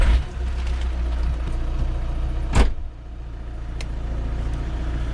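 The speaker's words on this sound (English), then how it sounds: "So turn the engine on." Engine of a Caddy Maxi camper van starting up with a short sharp burst, then settling into a steady low idle rumble, close and continuous with no talking.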